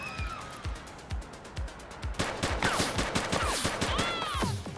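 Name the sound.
gunfire in The Precinct video game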